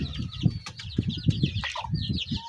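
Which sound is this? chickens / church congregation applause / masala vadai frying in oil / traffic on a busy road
chickens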